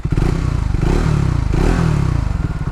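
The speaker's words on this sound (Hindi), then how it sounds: "2 बैरल एग्जॉस्ट है जिसकी वजह से बहुत ही थम्पी साउंड ये आता है।" Triumph Tracker 400 flat-track motorcycle with a twin-barrel exhaust starting up, a loud, close, thumpy engine burst with clattering mechanical noise and a rising rev, no talk.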